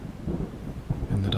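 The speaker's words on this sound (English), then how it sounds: "The rhythmical booms of thunder following the sharp jolts of lightning" Low, rolling thunder rumbles through steady rain on the Isle of Skye shore, swelling louder near the end.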